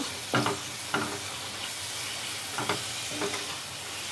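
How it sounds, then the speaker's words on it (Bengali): Sugar stirred into a pan of spices for Bengali-style mutton curry on a medium flame, a constant frying sizzle punctuated by four distinct scraping strokes of the spatula, close and clear. "দিয়ে দেবো সামান্য একটু চিনি। ভালো করে নাড়িয়ে নেব।"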